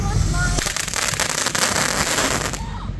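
Fireworks going off outdoors: dense, loud crackling and popping bursts fill the air continuously, close by, with a roaring, wind-like rush underneath.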